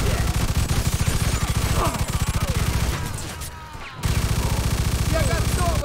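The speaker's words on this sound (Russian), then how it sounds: "Хватит уже палить! Я и так отглох наполовину!" Gunfire in the video game Mafia II, rapid sustained bursts of automatic shots, loud and close, with a brief lull before the shooting resumes, while voices talk over it.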